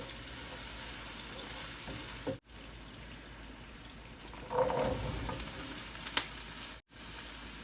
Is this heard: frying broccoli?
yes